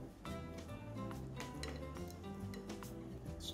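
A spoon clinks and scrapes against a bowl while Vietnamese beef stew is ladled over pandan rice, with steady soft clattering of cutlery and dishes over faint background music.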